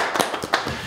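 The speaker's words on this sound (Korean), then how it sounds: "박수!" A few sharp hand claps in a sparse, uneven rhythm, close and fairly quiet, from a small group at the end of an online educational talk.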